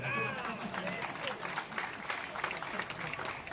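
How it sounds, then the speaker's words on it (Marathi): An audience at a village district council school event applauds from the back of the gathering, producing a dense patter of clapping, with a voice briefly audible at the start. "मागे टाळ्या वाजवा"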